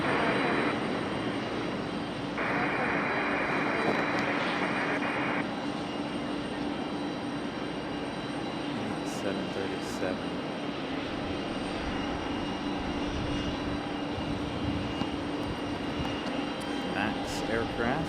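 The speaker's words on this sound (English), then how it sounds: "United 651. Boeing 737-900. 737 MAX 9. Coming in from ORD Chicago." A United Boeing 737 MAX 9 airliner landing at Raleigh-Durham airport after a flight from Chicago, its steady engine roar and broadband rumble sustained throughout, with a voice talking over it.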